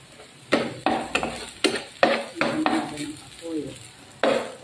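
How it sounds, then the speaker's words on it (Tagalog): Garlic sautéing in cooking oil for a beef steak dish, with repeated scraping stir strokes of a utensil against the pan every half second or so over a faint, steady sizzle. "Iisa po natin yung bawang ng kaunti. Magdadagdag po kayo ng mantika."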